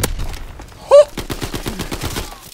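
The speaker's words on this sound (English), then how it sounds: "My shots are just going all the way fucking round him." Quick series of gunshots in Call of Duty: WWII online multiplayer, a short rapid burst of evenly spaced shots close up, preceded by a brief tonal game sound.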